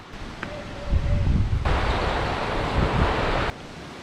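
Sagpulon Falls, a waterfall in Jasaan, Misamis Oriental, gives a steady broad roar of falling water that swells louder partway through, heard close and loud with no talking over it.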